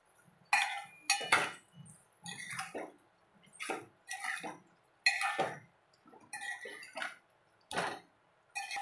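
A spoon stirs partly cooked, salted chicken in a pot for Telangana-style bhagara rice, making rhythmic scraping and clinking strokes close to the pot in repeated short bursts, with no talking.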